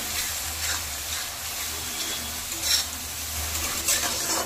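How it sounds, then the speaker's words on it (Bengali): Green chillies and ginger paste stir-fried in hot oil for bhoger khichuri: a continuous close sizzle with occasional scraping stirs, no voices. "আদা কাঁচা লঙ্কাটাও কিছুক্ষণের জন্য ভালো করে একটু ভেজে নেব।"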